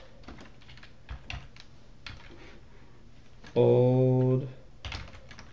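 Close, light clicking of computer keyboard keys in scattered bursts as code is entered, with a short loud tonal beep in the middle and a voice speaking briefly.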